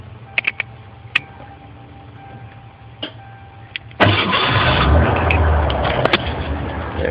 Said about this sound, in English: To start my truck, I have to come under here in this little slider and push it over.